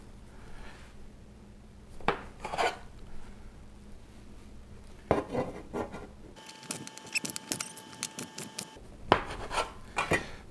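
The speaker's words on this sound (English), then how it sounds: "It says cut it into 12 pieces." A knife cuts a freshly baked loaf into pieces, giving several short rasping, sawing strokes close by with quiet gaps between them and no talk over the cutting.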